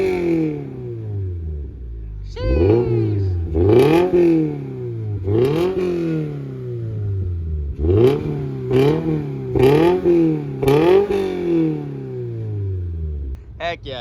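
Toyota GR86/Subaru BRZ fitted with a Perrin catback exhaust revs repeatedly, a run of sharp rising blips each falling away, close and loud with brief crackles between pulls.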